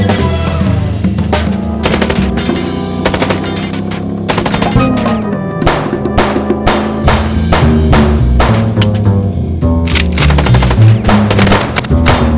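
Rapid, loud gunfire from the video game Chicken Police rattles continuously in dense repeated bursts, with heavy thumps beneath and a musical score running throughout.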